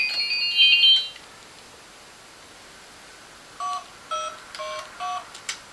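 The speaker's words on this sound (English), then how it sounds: "Who are you calling now?" Telephone keypad tones from a family member's phone at home on Christmas, a short burst of high dial beeps at the start, then a pause and a run of separate tone presses with brief gaps, clear and close.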